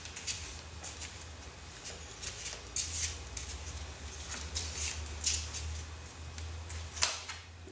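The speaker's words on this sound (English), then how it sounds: "I'm just going to close my eyes, shuffle the cards." Angel oracle cards being shuffled by hand produce quiet, soft riffling and crisp clicking flutters, repeating irregularly over a low steady background hum.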